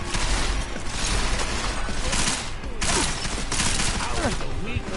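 Dense gunfire rattles through a firefight in the video game Deus Ex Mankind Divided, loud, close and nearly continuous, with bursts overlapping and a brief dip mid-way.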